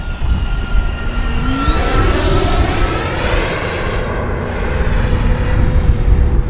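An E-flite Viper 90mm EDF radio-control jet makes a loud, close pass with its landing gear and flaps down, and the ducted-fan whine climbs sharply in pitch, then holds a steady high roar to the end.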